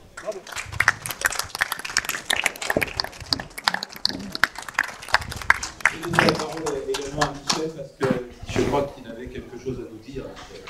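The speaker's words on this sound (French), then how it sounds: "je vous propose de les applaudir" An audience applauding at a conference on woodworking tools and handwork: many close, rapid claps build into a lively burst, thinning toward the end, with some voices mixed in.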